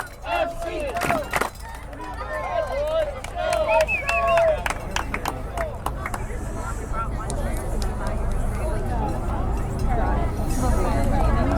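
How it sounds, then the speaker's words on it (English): Crowd noise at an amateur soccer match: voices shout and cheer over a few sharp claps early on, then the sound settles into a steady, fairly loud babble of spectators. "Crowd is into it."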